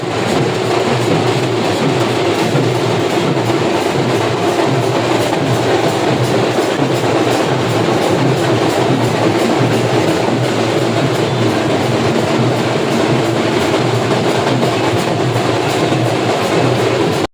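A train rolling into Sealdah station, a steady loud rumble of wheels and carriages with faint clickety-clack throughout, no talk over it.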